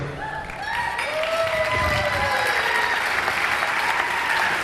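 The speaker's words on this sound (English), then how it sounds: "Let's give them another round of applause" Sustained applause from a large pageant audience, steady and loud throughout, with a few faint voices and a musical tone drifting underneath.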